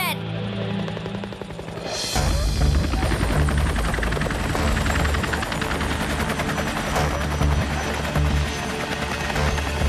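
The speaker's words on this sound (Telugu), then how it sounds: "అటు చూడండి, హెలికాప్టర్." A helicopter passes overhead with a loud, steady rotor thump and engine roar that rises sharply and holds, while people talk beneath it.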